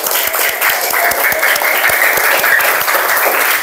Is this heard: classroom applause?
yes